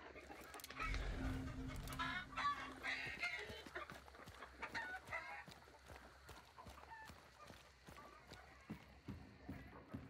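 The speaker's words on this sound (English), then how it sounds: "Shut up, chickens." Chickens cluck and squawk through a busy farmyard scene, with hoof clip-clops and other livestock noises mixed in at moderate loudness.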